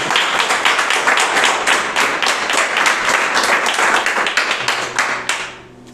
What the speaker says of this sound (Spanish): Vamos a darle un aplauso fuerte a Dios.